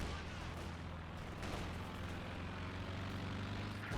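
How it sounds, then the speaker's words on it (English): Stuka dive bomber attack in a Stalingrad WWII strategy game match, heard as a dense, steady roar of low engine drone and rumbling battle noise with a sharper burst of impact about a third of the way in. "Here comes the Stuka."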